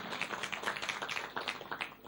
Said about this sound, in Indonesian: Tepuk tangan buat aset dong